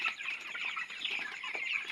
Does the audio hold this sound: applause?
no